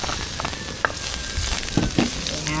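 Chopped garlic sautés in hot oil in a pan, giving a steady crackling sizzle with a few sharper spatters and stirring scrapes, close and fairly loud, with no talking.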